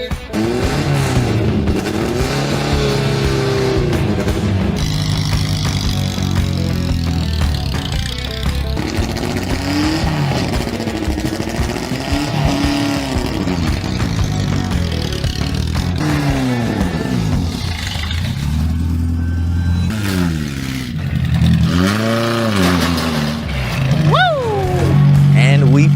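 An off-road truck called the Chinook on the Hell's Revenge trail, its engine revving loudly in rising and falling sweeps, with people talking over it.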